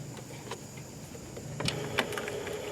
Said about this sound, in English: the machine right now is running a pump on the purging unit underneath